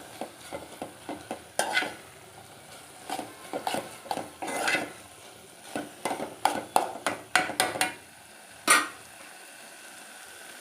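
Metal cooking pots and dishes clink and clatter in a home kitchen as they are set in place, a string of sharp irregular knocks and scrapes, some close and loud, with pauses between.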